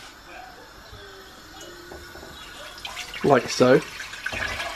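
Water is poured into a pan of curry, giving a brief close splash and trickle near the end, following quieter kitchen noise and a short spoken line.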